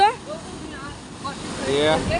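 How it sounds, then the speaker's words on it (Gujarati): Big waves roll and crash near the shore of a stormy sea by the Ratneshwar Mahadev temple, with a rushing surge and wind buffeting the microphone as a voice exclaims over it. "એવું છે મોટા મોટા મોજા વળે એમ તો જો ઓહો કેવા મોજા વળે"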